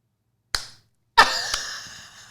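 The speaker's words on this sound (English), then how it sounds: "You get a slow clap." Two sharp, separate claps spaced apart in a slow clap, the second ringing out a little longer with a faint trailing echo.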